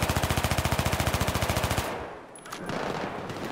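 Rapid automatic fire from an ACWR rifle in a Battlefield-style shooter, a fast even burst of about two dozen shots that stops partway, followed by quieter in-game ambience.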